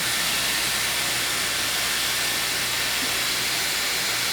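Steady, loud rushing airflow from a Dyson Airwrap or Shark FlexStyle hair styler running continuously at close range, a broad even hiss with no pauses.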